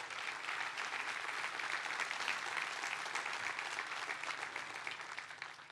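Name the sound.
audience applause at a church service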